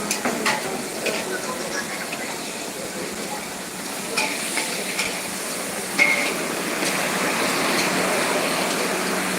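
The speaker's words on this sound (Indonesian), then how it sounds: "Nah ini martabak telur yang sedang diproses abang ini" Martabak telur, an egg-filled pancake, frying at a busy night food stall in Banda Aceh: steady sizzle and hiss with scattered metallic scrapes and clanks of a spatula, set in a continuous bustling street din.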